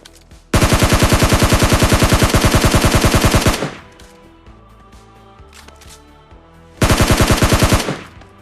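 Automatic rifle fire in PUBG Mobile Lite, likely an M16 or SCAR, rattles in a long loud rapid burst of about three seconds, then after a quieter pause another shorter burst follows.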